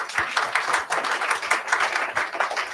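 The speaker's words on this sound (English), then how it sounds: "Give him a clap." An event audience applauds steadily, many hands clapping in a dense, even patter that fills the room at moderate loudness without speech.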